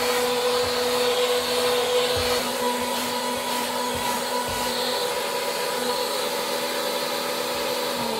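A 1991 Zelmer type 124 car vacuum cleaner runs steadily with its upholstery nozzle attached, giving a constant loud motor whine and airflow hiss with faint bumps from the nozzle, and no one speaks.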